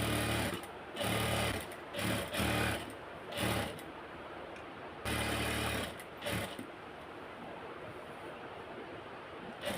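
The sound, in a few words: sewing machine stitching piping onto fabric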